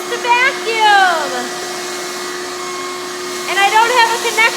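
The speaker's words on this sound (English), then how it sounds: "My job is to vacuum!" Shop vacuum cleaning up dust in a garage beside a freshly cut hole in a wall, a loud steady close whine with a motor note that rises and falls as the hose moves.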